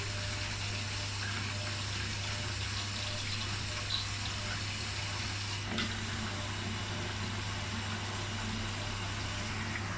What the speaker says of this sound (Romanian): Arcticul încă alimentează cu apă.